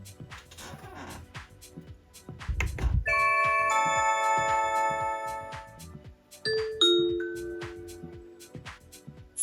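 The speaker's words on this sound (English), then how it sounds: "when I press the doorbell, my Amazon Echo alerted me that someone was at the door" A bright electronic Blink video doorbell chime rings out from an Amazon Echo in several sustained tones, then a shorter two-note chime follows, over faint background noise.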